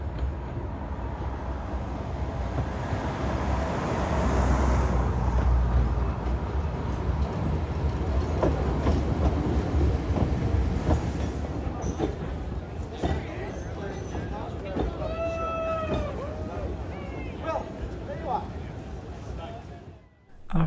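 The steam locomotive Sir Handel on the narrow-gauge Talyllyn heritage railway in Wales passes, a broad rumble that swells and then fades, followed by rhythmic wheel clacks and a brief squeal as someone narrates over it.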